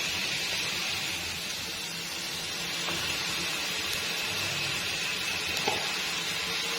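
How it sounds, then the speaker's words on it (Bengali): Chopped onions hiss and sizzle steadily in a hot pan with browning garlic, a constant close frying crackle with faint stirring clicks and no voices. "আমি এই পর্যায়ে এখানে কিছু পেঁয়াজ কুচি দিয়ে"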